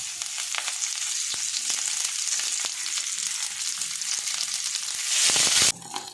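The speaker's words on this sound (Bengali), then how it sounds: "এবার আমি একটা একটা করে এখানে গ্যাস কমিয়ে পাতুরিগুলো দিয়ে দিচ্ছি। দেওয়া মাত্র ছাড়ছাড় করবে, যেহেতু কাঁচা পাতা।" Hilsa fish paturi wrapped in raw bottle gourd leaves sizzles in hot oil, a loud close crackling hiss with scattered pops that swells into a burst of spattering before cutting off abruptly.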